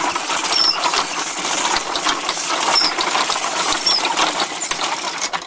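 Wooden machine gears turned by a hand crank produce a dense, continuous wooden clatter and ratcheting tick, close and steady for several seconds with no voices.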